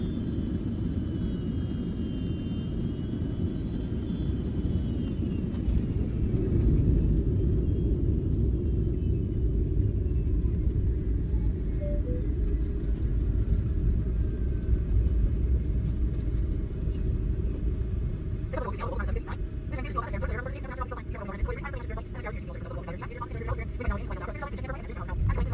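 Low, steady cabin rumble of an airliner descending to land at SeaTac Airport near Burien, Washington, continuous and loud throughout, with a faint whine above and brief higher clatter near the end.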